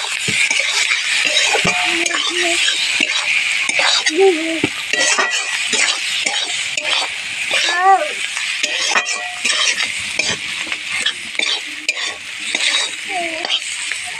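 Fish roe with dried chilli powder and black pepper sizzles steadily in a frying pan while a utensil stirs and scrapes it, with occasional light metallic clinks, close and continuous with no talking.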